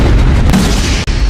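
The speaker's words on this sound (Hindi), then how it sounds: "एक और पेपर बॉम्ब मिला है। मैं इसे अभी डेटोनेट करना होगा।" A paper bomb detonates in an anime battle, setting off a loud, close, sustained explosive boom and rumble that dips abruptly near the end.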